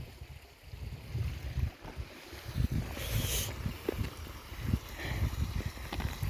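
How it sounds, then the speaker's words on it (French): Steady broadband rushing of a small stream flowing nearby, with a few soft splashes and gurgles, no voices. "Sympa ce petit ruisseau."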